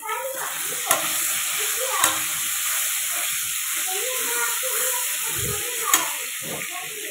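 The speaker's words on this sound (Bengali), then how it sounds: "দেখুন এখানে আলুটা ভাজছি।" Potatoes fry in a pan in a home kitchen with a steady, quiet sizzle, broken by a few sharp clinks of stirring.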